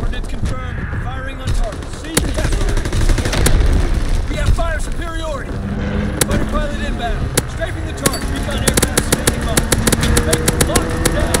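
Gunfire in a military video game: sharp shots and bursts crackle throughout, mixed with game radio chatter and other effects, fairly loud and dense.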